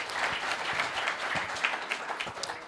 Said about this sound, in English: let's just have a round of applause for Michael Bamberger, Rebecca Hughes Parker